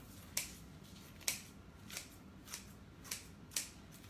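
Six crisp scissor snips at a steady pace cut through deco mesh for a Halloween witch wreath, close to the microphone in a quiet room.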